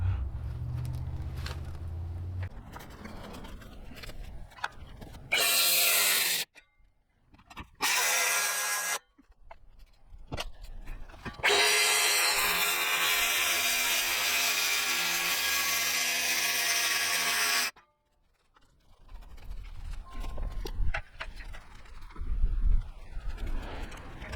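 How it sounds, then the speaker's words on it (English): A cordless drill bores a hole for an RV door in a box truck, running in short bursts and then one long, loud, steady drilling stretch between pauses. "I hope I have enough charge to get the hole drilled with this one"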